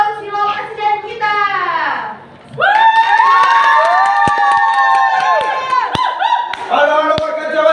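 A crowd at a staged presidential campaign rally, with children among them, cheers and shouts loudly after a brief raised voice, the excited whooping and yelling sustained, close and energetic for several seconds.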